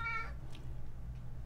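A big house cat gives a single short meow right at the start, close and clear, followed by quiet room tone.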